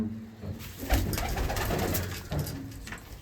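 Old pigeons cooing close by, a few throaty rolling coos rising and falling in bursts against a dense background hum.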